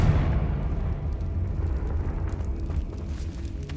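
A Confringo blasting spell detonates inside a decayed catacomb in Hogwarts Legacy, a heavy rumbling blast that rolls on and slowly fades over several seconds, with no speech.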